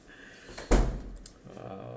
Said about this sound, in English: So I want you to go and close the door.